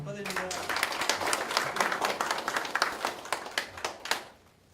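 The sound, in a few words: audience applause at a ceremony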